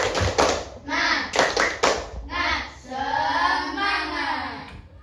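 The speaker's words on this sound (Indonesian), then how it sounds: "Tepuk semangat." A group of people in an Indonesian classroom perform a rhythmic spirit clap, several bursts of hand claps in patterned sequence mixed with children's and adults' voices chanting along.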